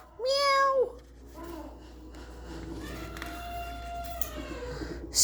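A cat meows once, close and loud, with rising and falling tones, followed by quieter voice-like sounds and a sustained tonal whine over background noise.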